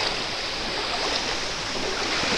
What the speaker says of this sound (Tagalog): So ayan, river crossing.